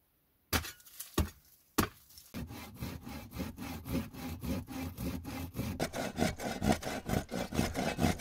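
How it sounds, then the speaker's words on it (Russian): A hand saw cuts wood upward from below in a vertical cut. A few sharp knocks lead into steady, rhythmic back-and-forth strokes that grow quicker and more regular. "Вертикально, вниз, снизу пилить вверх ножовкой, это нелегко"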